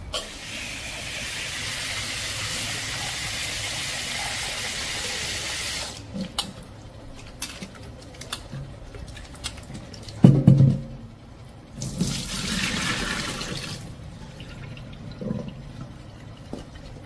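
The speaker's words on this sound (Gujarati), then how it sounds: "લીંબુને ધોઈ લઉં છું." Lemons being washed under a running kitchen tap, with a steady close rush of water, then intermittent splashes and drips as the flow stops and starts.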